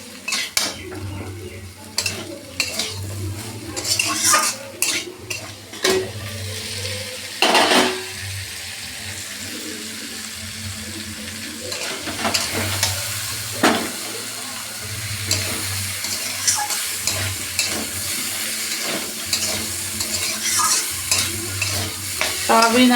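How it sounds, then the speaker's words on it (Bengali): Soybeans and potatoes being sautéed with spices in a pan for soyabean curry: a constant sizzle beneath frequent metallic scraping and clinking of a spatula against the pan, close and lively, no speech. "সয়াবিন আর আলু আমি একদম কষা হয়ে নিচ্ছি মশলা দিয়ে।"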